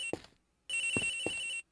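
Two telephone rings from the Ace Attorney Investigations game, a short ring then a sustained steady electronic trill, clear and close with no talk.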